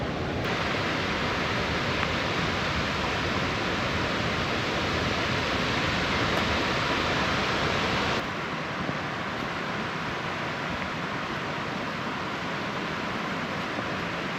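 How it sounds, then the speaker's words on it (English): Low Force waterfall in County Durham, England's smallest, roaring as a loud, steady broadband rush of falling water close by, with no change in character and no talk. "And this is Low Force. The smallest waterfall in England."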